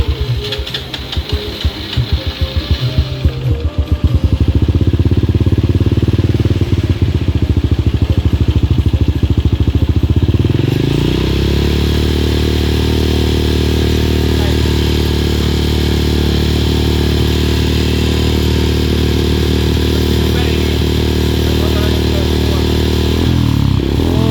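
A Honda Blade motorcycle with a baffled exhaust and 2mm filter revs loudly with a rough, throaty sound, then settles into a steady, sustained high idle close by.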